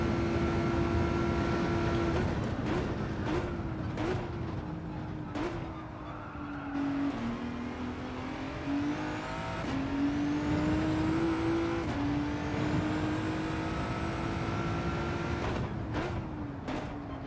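Race car engine in Gran Turismo 7 during a time trial, a loud sustained drone rising and falling through gear changes, with sharp shift blips and brief lifts as the car brakes and accelerates through corners.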